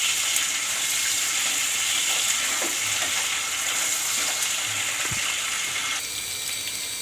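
Tangra fish fry in hot oil in a pan, a continuous bright sizzle with occasional scrapes and clicks of stirring, quieting slightly near the end.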